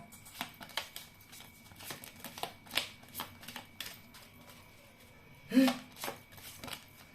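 Tarot cards are shuffled close by in a soft, rapid series of riffling flicks and light slaps, spread irregularly over several seconds, with one louder thump near the end.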